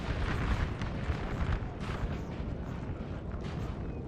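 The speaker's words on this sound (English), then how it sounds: "But artillery already tearing into this Austrian line" Dense, continuous rumble of 8-pounder artillery fire in the Napoleonic Total War 3 video game, a 4v4 multiplayer battle at Aspern against an Austrian line, with overlapping booms and bursts forming a loud, steady barrage.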